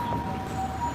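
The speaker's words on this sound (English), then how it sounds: "Everywhere we go, we see ambulance." An ambulance siren wails along a busy Ginza street in Tokyo, a steady high tone that bends slightly in pitch over constant traffic rumble.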